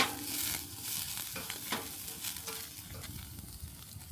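Steak searing over an open wood fire at an RV campsite, giving a steady broadband sizzle and crackle with small pops, close and even throughout with no talk.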